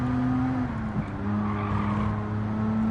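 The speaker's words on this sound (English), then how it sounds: "the sound of the engine is just really nice. You can't beat a V6, in my opinion." V6 car engine in the Gran Turismo 7 racing game, a steady loud droning hum with a sustained tone that dips slightly near the middle, continuous throughout with no talk.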